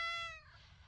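A single drawn-out meow from the boss cat in the video game PopUp Dungeon, clear and fairly faint, falling away into quiet background.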